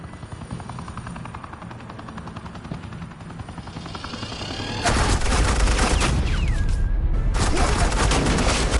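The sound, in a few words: suppressing gunfire in video game Batman The Enemy Within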